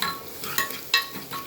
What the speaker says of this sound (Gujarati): હવે બરાબર સંતળાઈ ગયું છે ડુંગળીને બધું